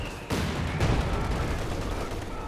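Heavy gunfire from Sherman tanks in the World War II strategy game Company of Heroes 2, a sudden loud blast followed by dense, rolling battle noise with shots and rumbling that continue throughout.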